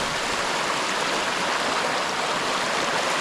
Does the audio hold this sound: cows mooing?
no